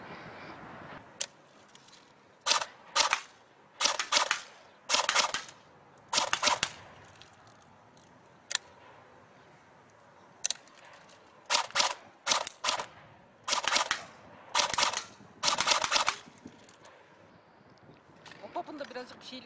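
A CYMA AKMS full metal airsoft AEG with a wooden stock fires a series of sharp, loud single and short bursts of shots, clustered in groups with pauses between, over quiet background.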